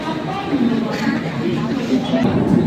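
Dense crowd chatter at a busy Mumbai train station: a continuous, close wash of overlapping voices with no single speaker standing out, steady in level throughout.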